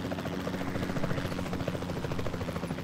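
A helicopter flies in a video game, its rotor thumping in a steady rapid chop under a constant engine whine, moderately loud and with no voices.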